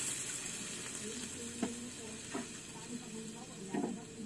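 Small chopped vegetables cooking in a pan with a little water, giving a steady hiss and sizzle with a few brief clattering stirs close by.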